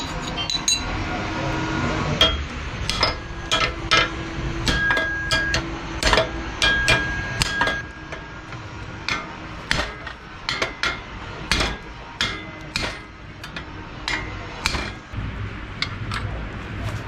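Hammer blows on a Honda CRF 300 Rally motorcycle part during a repair in Chitral, Pakistan, a long run of sharp, ringing metallic strikes at an irregular pace, some in quick bursts, heard fairly close.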